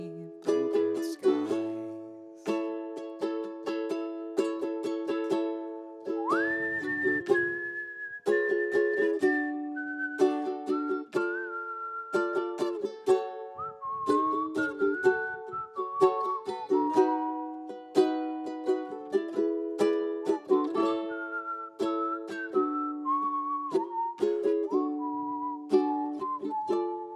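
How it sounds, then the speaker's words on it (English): A person whistles a melodic tune alone, sustained notes gliding up and down in steady phrases over a light plucked or strummed accompaniment, fairly close and clear throughout. "nothing makes me feel alive like whistling to bluebird skies"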